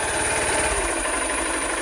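A 2023 Honda Unicorn OBD2 motorcycle idles close by, a steady, even engine chug with a low throbbing pulse that holds at one level throughout, with no voices.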